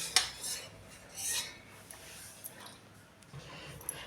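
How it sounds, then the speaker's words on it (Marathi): Peanuts poured into hot salt in a kadhai rattle and scrape with soft gritty rustles and a few sharp metallic clinks, quiet and intermittent. "आता हे शेंगदाणे आपण लगेचच त्या मिठामध्ये टाकून घ्यायचे आहेत"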